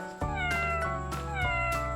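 A house cat meowing loudly and close up, giving a quick yowl followed by two drawn-out, insistent meows in a row with no pause between them.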